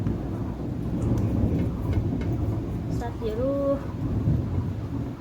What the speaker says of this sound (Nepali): साथीहरू हाम्रोतिर चाहिँ यसरी पानी पर्दैछ है।